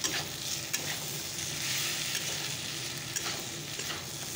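Eggs frying in a pan while being stirred, a steady close sizzle with scraping strokes from the utensil repeating through it and no voices.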